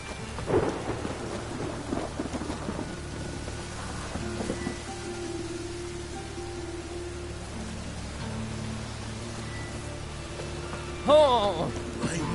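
Rain and thunder in The Witcher 3 game world, a steady hiss of rainfall with low rumbling beneath, some faint tonal game sounds and a brief louder burst near the end.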